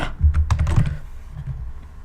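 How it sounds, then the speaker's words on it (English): Quick burst of typing on a computer keyboard, close and crisp, several rapid keystrokes fading into softer taps, with no talk. "I'm going to type in com dot my web domain"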